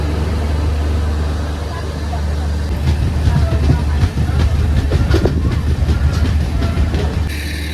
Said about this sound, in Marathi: समोरून जनशताब्दी एक्सप्रेस आज झाली त्यासाठी थांबलेली आणि आता सुटल्या इथे